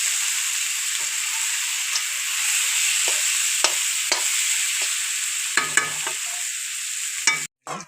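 Duck meat, cooked with pumpkin, fries in a pan with a loud, continuous sizzle, while a spatula scrapes through it in repeated separate strokes that grow busier near the end.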